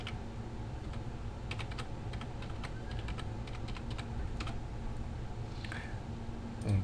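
Fingers type a username and password on a computer keyboard, a steady stream of close, light key clicks with a few sharper taps, without speech.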